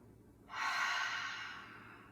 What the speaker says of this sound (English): We'll take a deep inhale together. Exhale through the mouth.